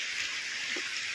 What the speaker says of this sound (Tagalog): Konting ulan lang.